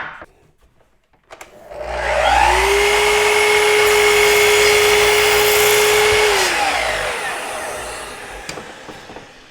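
A power saw slices a 64-inch trim piece in a workshop, its motor whining up sharply, holding a loud, steady high-pitched cutting tone for several seconds, then spinning down to quiet, heard close and alone.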